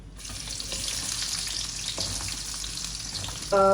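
Sliced small onions, shallots, frying in hot oil in a pan for a crab pepper masala, a loud continuous sizzle heard close up without speech, ending in a brief louder knock.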